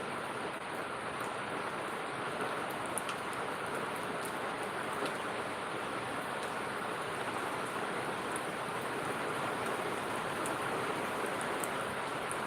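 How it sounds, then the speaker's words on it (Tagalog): Rain falls in a steady, even hiss outdoors, a continuous moderate wash of drops with no pauses and no voices. "Yahoo! Umulan."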